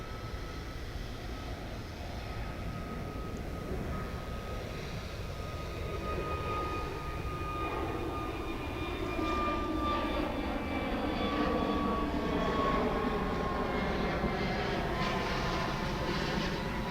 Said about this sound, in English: That was American Flight 2697 headed off to Los Angeles